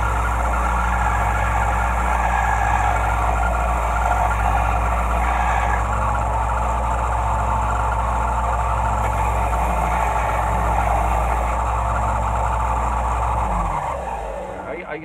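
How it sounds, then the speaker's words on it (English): A bench grinder runs steadily and loudly, smoothing and sanding an axe head, with a continuous whirring drone that winds down near the end. "I've got a grinder here on the bench."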